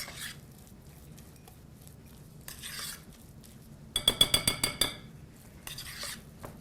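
Cookie batter is stirred in a bowl with a utensil, a quick run of rhythmic scraping clinks near the middle, with quieter kitchen handling sounds before and after.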